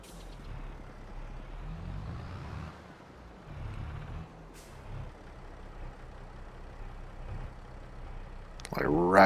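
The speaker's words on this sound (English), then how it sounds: "just how deep some of the tones in the engine sound for this tractor are" A tractor engine idles at low throttle with deep, rumbling low tones, a steady near drone that swells and eases slightly before a louder burst at the end.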